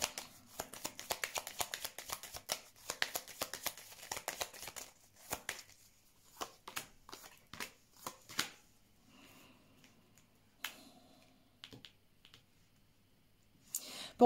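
Tarot cards are shuffled and laid out in a spread, starting with a dense run of crisp riffling clicks and slowing to separate soft card slaps and flicks, close and quiet, with no talking.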